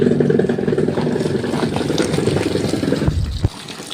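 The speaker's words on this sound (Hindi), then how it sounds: "पानी कम हो गया तो पहले चला लेती हूँ पानी" Water runs steadily into a household washing machine being loaded with sweat-soaked white clothes, a continuous close rushing flow that cuts off near the end with a brief clunk.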